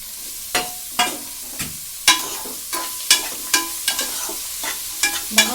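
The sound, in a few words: bottle gourd pieces frying and being stirred in pan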